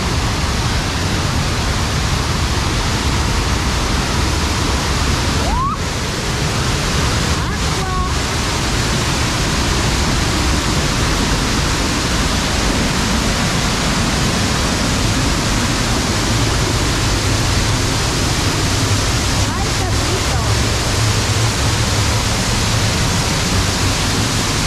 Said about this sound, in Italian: Ecco la cascata dello sbarco.